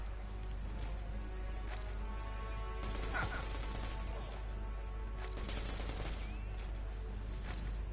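Apex Legends gunfire rattling in quick bursts over a steady low game hum, with several clustered shots and impacts, moderately loud, while a voice talks briefly.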